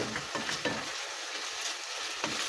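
Meat for menudo frying and sizzling in oil in a pan, a steady close hiss broken by a few scraping stirs, with no voices.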